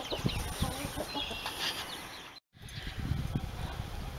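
Young chicks inside a coop give off a busy chorus of small clucks and cheeps, close and fairly loud, with short calls overlapping throughout and a brief cut to silence midway.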